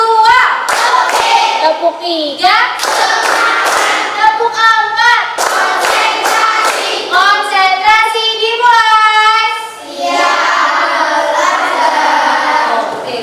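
Children in a classroom perform a rhythmic clapping game, sharp bursts of hand claps in set patterns alternating with a teacher's and children's chanted call-and-response voices.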